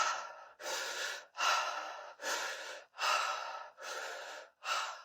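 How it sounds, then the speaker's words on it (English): A person demonstrates a two-part circular breath, a double inhale followed by an exhale, as steady airy breaths repeat in about six even cycles, close to the microphone and with no talking. "So it's an inhale and then an inhale and then an exhale."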